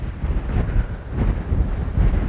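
Steady wind gusting outdoors at a ghost-tour stop in Derbyshire, a low rumbling roar buffeting the microphone for the whole stretch with gentle swells and no voices.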